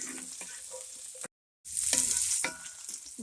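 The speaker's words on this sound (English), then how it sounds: "So I am cooking this in an iron skillet, a Lodge iron skillet." Kale, eggs and green onion frying in a Lodge cast iron skillet make a close, crackling sizzle with a few scraping stirs, cut by a brief moment of silence before the sizzle returns louder.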